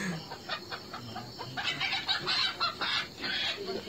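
Video game hens cluck in short repeated bursts, fairly close and lively, with busier overlapping clucks in the second half; no talking.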